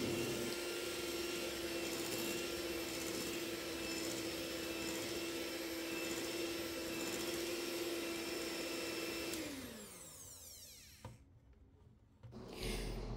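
A steady electric mixer drones loudly while beating kisses cookie dough, whirring at a constant pitch for about nine seconds before winding down and stopping, with a few soft clatters afterward and no talk.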